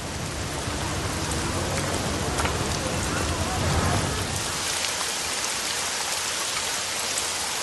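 Torrential rain falls hard and steady on the ground and nearby surfaces, a loud, continuous hiss with dense close drops. A voice talks over it partway through.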